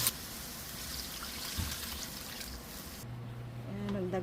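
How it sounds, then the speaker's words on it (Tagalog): Water is poured into a pan of cooking chicken for Filipino-style pancit, starting under a loud sizzle that quiets as the liquid hits, then settles into a gentle bubbling trickle. "Ayan, magdagdag tayo ng tubig."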